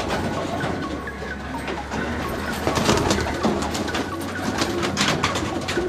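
Pigeons at a rooftop loft in Payyoli, Kozhikode, coo softly in repeated, overlapping calls over a dense, steady background rustle and hum.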